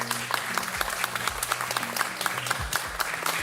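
A crowd applause sound effect plays as dense, steady clapping for a few seconds, with a faint background of low voices.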